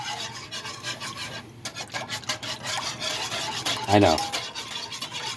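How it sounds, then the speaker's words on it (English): Whisk scraping and rubbing through a homemade Alfredo sauce seasoned with nutmeg for chicken fettuccine, a close, steady rhythmic rasp with a brief spoken remark over it. "a little bit of nutmeg, and I'm going to whisk it"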